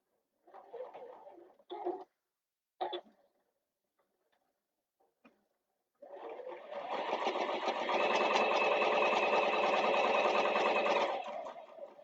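Domestic sewing machine stitching handbag lining and a slip pocket, preceded by a few brief clicks and handling knocks, then a steady close mechanical whirr with rapid ticking needle strokes running for several seconds.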